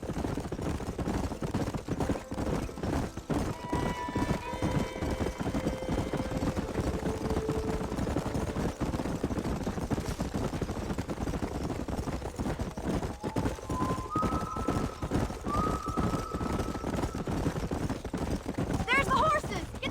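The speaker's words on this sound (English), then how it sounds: "There's the horses!" Horses gallop in the video game Red Dead Redemption, a continuous rumble of hoofbeats running throughout under game music tones and wind.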